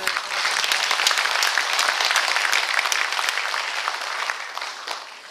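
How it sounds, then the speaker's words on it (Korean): Audience applause at a Yeongwol County briefing on Gangwon Special Self-Governing Province in a cultural arts center hall, welcoming an introduced guest: dense, steady clapping from a large crowd that fades slightly toward the end. "여러분 따뜻한 박수로 부탁드리게 환영해주시기 바랍니다"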